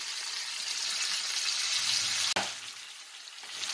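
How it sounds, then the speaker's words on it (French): Tuna steaks seasoned with salt and pepper brown in a sauté pan, giving a steady, fairly soft hiss of frying with one sharp click partway through. "Je fais dorer mes steaks que j'assaisonne de sel et de poivre."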